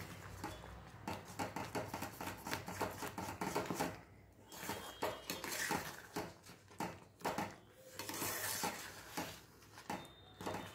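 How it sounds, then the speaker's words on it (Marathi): Tomato upma being stirred in a pan over a low gas flame, with a steady run of spoon scrapes and clatter against the pan, close and fairly loud, with short pauses between bursts. "व्यवस्थित असा हलवून घ्यायचा आहे। गॅस बारीक ठेवायचा आहे।"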